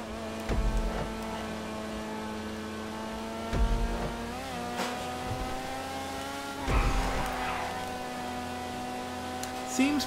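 Supercar engine in GTA 5 Online, Penetrator or Tempesta, droning steadily with strong harmonic tones that rise and fall through gear changes, punctuated by a few sharp shift thumps.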